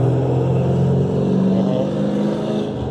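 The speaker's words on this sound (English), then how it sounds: "Let's get the loud vehicle again." A loud vehicle engine revs up close with a dense, steady low roar that eases slightly toward the end.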